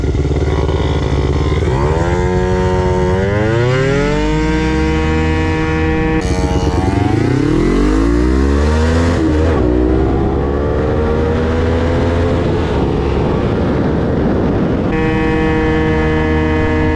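Engines rev and accelerate hard, pitch sweeping upward through gear changes, as a scooter and a CB 500 motorcycle pull away from a race start loudly and continuously without speech.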